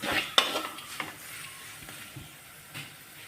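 Turmeric powder roasting in oil for Kerala fish curry, a soft sizzle under a few sharp spoon knocks and scrapes against the pan, fading to a quieter hiss.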